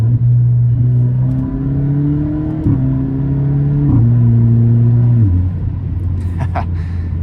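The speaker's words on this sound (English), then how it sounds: "I love those little crackle pops on the overrun." An Alfa Romeo Giulia's engine rumbles loudly and steps down through several downshifts, the pitch dropping each time, with faint exhaust popping crackles on the overrun near the end.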